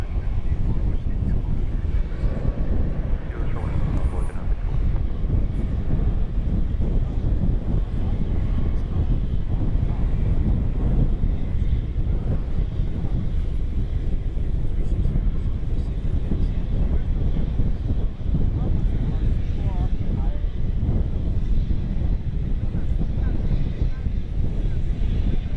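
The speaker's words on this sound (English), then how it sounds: "American 364 to Salt Lake City, a MAX 8" An American Airlines Boeing 737 MAX 8 departs DFW at night with a steady, loud jet engine roar, heavily buffeted by wind noise across the microphone.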